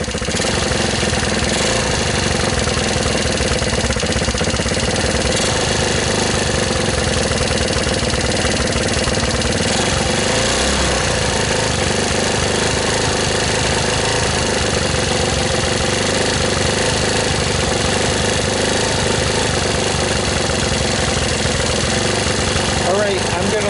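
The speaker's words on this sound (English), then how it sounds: "I want it to idle. I'm just turning up the throttle." A 150cc GY6-powered ATV engine idles with the throttle turned up, a loud, steady, rough mechanical drone close by, with a voice speaking over it.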